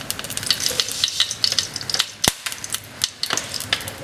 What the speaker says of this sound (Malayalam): എണ്ണയൊക്കെ ചൂടായിട്ടുണ്ട്. ഇതിലേക്ക് നമുക്കൊരല്പം കടുക് ഇട്ട് കൊടുക്കാം.